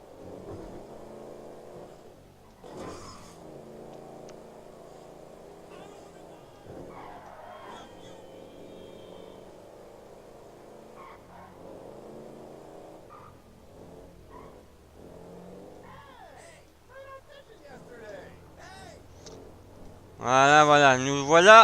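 A car in the video game GTA V driving erratically, its engine droning and shifting pitch, then tires skidding loudly at the end, with a person talking over the game sounds.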